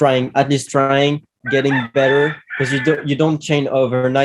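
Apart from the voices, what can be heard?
rooster crowing outside on the island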